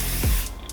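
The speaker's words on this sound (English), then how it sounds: "I just spray the top down" Hair spray hisses onto the top of a wig in one short, close, loud aerosol burst that tapers off quickly.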